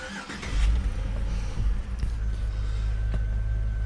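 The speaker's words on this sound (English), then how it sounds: "Let me start it up here once." A car engine cranking and catching, then settling into a steady low idle, heard close in a car with an ABS fault.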